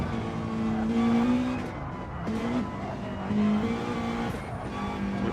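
A race car engine in Gran Turismo 7 revs hard and holds high, droning pitch, then dips and climbs again through gear changes, loud and continuous with a faint tire squeal.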